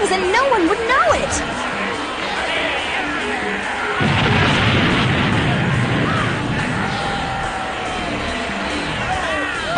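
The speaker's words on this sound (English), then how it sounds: "I've never heard such an uproar for an early fight" A large crowd roars and cheers at an early fight in the Dark Tournament, a dense, sustained uproar that swells around the midpoint and stays loud throughout, with voices and a few whoops rising over the din.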